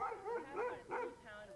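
Sled dogs of a family-run Iditarod training kennel bark and yip eagerly before a run, a few close, excited barks and whines layered in quick succession.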